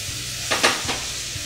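Chopped tomatoes land in a pan of caramelised onions, giving a short close burst of sizzling and hissing over a low steady frying background.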